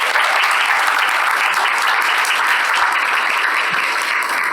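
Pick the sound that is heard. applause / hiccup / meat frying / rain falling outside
applause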